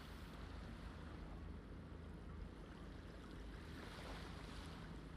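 Waves wash against a pier in the video game Yakuza 0, a soft, steady rushing of water with a low rumble and gentle swells, faint and continuous with no voices.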